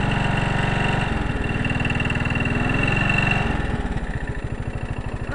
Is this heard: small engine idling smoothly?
yes